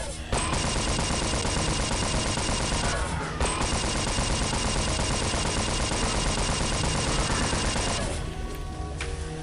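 The Tarydium Shard Launcher in Unreal Return to Na Pali fires in sustained, rapid volleys, a loud, continuous crackle of shots with two brief breaks before it tails off near the end.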